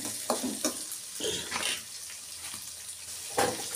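Chopped spinach (palak) goes into a pan of tomato-onion puree for paneer mater palak, making a close, moderate sizzle with intermittent stirring scrapes and wet rustling bursts.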